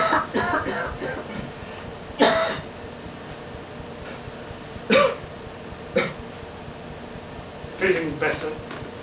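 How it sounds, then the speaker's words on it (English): Several separate coughs break out at irregular intervals, a couple of them sharp and harsh, with a quiet room hum between them, during a stage play in a theatre. "nasty cough."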